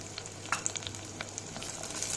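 Garlic and small onions sautéing in a pan give off a steady, moderate sizzle with faint crackles and light stirring sounds, close by and without speech.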